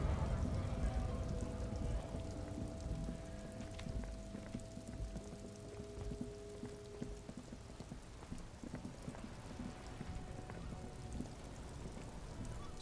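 Steady rain ambience in the Disco Elysium video game, a soft, continuous patter of drops on surfaces with a low rumbling bed, faint and unbroken throughout.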